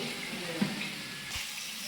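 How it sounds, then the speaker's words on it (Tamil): Water poured into a cooking pot while making a rice dish, heard as a brief, steady splashing trickle at a modest level with no talking. "அதுக்கப்புறமா தண்ணி சேர்க்க போகிறோம்"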